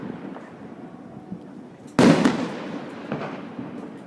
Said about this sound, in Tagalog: may fireworks